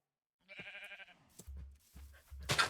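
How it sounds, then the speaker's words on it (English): A single sheep bleats, a short wavering cry heard up close, followed by a few dull thumps and rustling noises with no talking. "oh, a little sheep."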